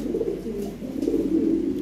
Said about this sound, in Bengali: এইখানে একজোড়া লাল ঠোঁট লাল গিয়ারের এক পেয়ার কবুতর আছে